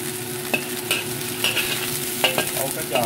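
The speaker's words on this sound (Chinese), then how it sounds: "打翻啲姜片同埋金葱片" Ginger and shallot slices being stir-fried in a lightly oiled hot wok, a steady close sizzle with scraping stirs of the spatula at intervals, no voices.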